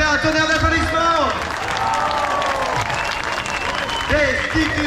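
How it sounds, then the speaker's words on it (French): A crowd at a Macron destitution protest on Place Denfert-Rochereau in Paris breaks into loud, sustained applause, dense clapping mixed with cheers, with voices over it throughout. "On peut faire un tonnerre d'applaudissements."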